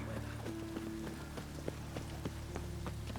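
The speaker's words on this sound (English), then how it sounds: "Lots of fuss over lots of rain." Rainfall in The Witcher 3: Wild Hunt, a steady patter of drops on surfaces with scattered sharper taps and a low tonal hum beneath, moderately quiet and without speech.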